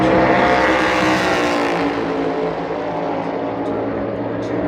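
A NASCAR Cup Series race car roars down the back straightaway at Phoenix Raceway during 2024 championship qualifying, a loud engine drone that sweeps past and fades slightly as it moves away.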